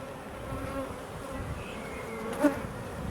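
Honeybees buzz at an opened hive after a hard winter, its frames packed with nectar. A steady, close, low hum fills the whole stretch, with one brief louder swell near the end.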